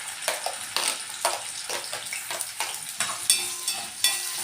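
Chopped chili peppers sizzle in hot oil with garlic, giving a close, lively crackle that comes in quick repeated bursts, as if stirred or tossed, with no voices.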